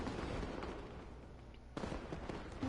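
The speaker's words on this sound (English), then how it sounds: "It's just playing fireworks for me in the background." Fireworks crackle and thump in the background of the Lantern Rite festival in Genshin Impact, a fairly faint, steady rumble of bursts with a sharper pop near the end.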